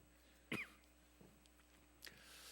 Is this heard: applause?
no